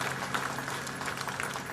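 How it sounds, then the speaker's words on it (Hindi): A crowd applauds at a police passing-out parade, a brief, fairly muffled patter of clapping heard from a distance with a low steady hum beneath it. "जोर जोर से तालियां बजाकर अपनी खुशी का इजहार कर सकते हैं।"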